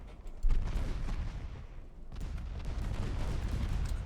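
Heavy warship guns fire in the naval battle game Ultimate Admiral Dreadnoughts, with two booming salvos that roll into sustained rumbling.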